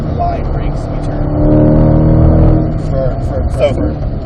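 A car on a track accelerating out of a corner during an instructor ride-along, engine note rising in pitch and loudness from inside the cabin, with a voice talking over it.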